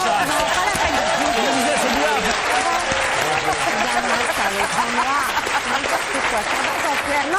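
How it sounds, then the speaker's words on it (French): A television studio audience applauds during a French talk show taping, continuous close clapping with voices talking and laughing over it throughout. "C'est pas la peine d'applaudir quand on coupe."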